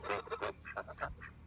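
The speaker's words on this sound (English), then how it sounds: "Here comes the gang of gaggles." A gaggle of farm geese honks in a rapid, overlapping series of loud, close calls, several birds sounding at once with short gaps between bursts.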